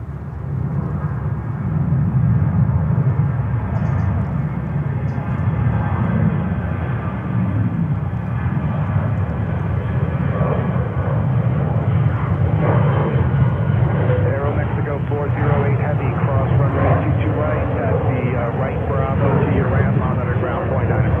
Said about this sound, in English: And next takeoff already on runway 22. This is Delta to Orlando.